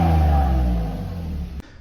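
A 2005 Ford Focus engine with side exit exhaust revs loud and close, a steady droning roar that eases down toward the end before cutting off abruptly.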